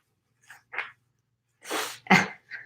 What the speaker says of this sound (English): I had a sniffle there.